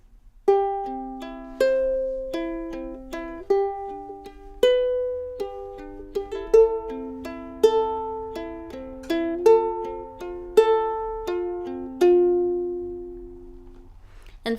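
Ukulele fingerpicked in a repeating pattern over chords, plucked notes ringing clearly in an even rhythm, each chord change marked by a fresh attack, played alone.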